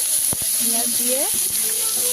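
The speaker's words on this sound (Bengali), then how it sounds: "পেঁয়াজগুলো ভালো করে ভাজা করে নিতে হবে," Onions frying in a pan after potatoes were browned, a steady close sizzle with a couple of sharp utensil taps as a voice speaks over it.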